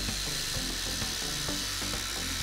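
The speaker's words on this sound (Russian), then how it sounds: "Я решил зарядить два PowerStack аккумулятора и попробовать импакты в деле. Крутить буду глухари с 13-й головкой." DeWALT impact drivers, including a US DCF850B, run on PowerStack batteries and drive lag bolts with a 13 mm socket. The rapid hammering rattle is loud, close and continuous, with regular surges as each driver bites.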